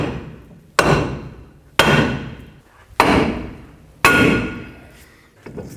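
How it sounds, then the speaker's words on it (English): Four loud, evenly spaced metallic hammer blows strike the nubs of a steering knuckle on a 2007-14 Chevy Silverado, each ringing out and decaying, then a fainter tap at the end. "take your hammer and hammer right on these 2 little nubs on the knuckle"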